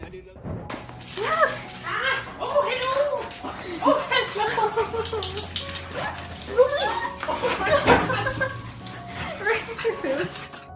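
A dog whimpers, yips and squeals with joy at a soldier coming home after seven months away, its excited cries rising and falling in quick bursts while people talk warmly close by.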